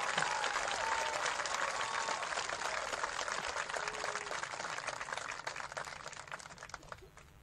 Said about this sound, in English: Ladies and gentlemen, a round of applause for our 2023 Honor Guard.